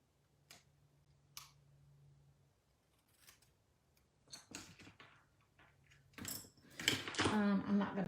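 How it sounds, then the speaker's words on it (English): Scissors trim a paper die cut in a few sharp, separate snips against a quiet background. Louder rustling and handling noises build toward the end. "Maybe I could trim a little bit right here."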